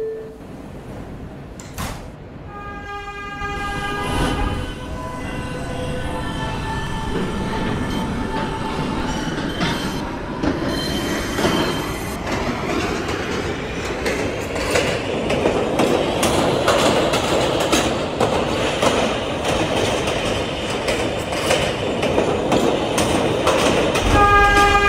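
A PTA Subway train in a Roblox game pulls away from a station, starting with door chimes and tones, then a rising motor whine and track clatter that grow steadily louder.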